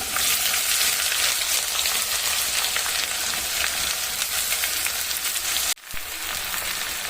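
Chopped onions sizzle steadily in hot oil with garlic for tomato thokku, a loud continuous frying hiss that cuts out briefly near the end before resuming.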